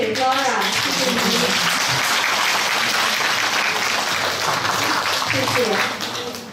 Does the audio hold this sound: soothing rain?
no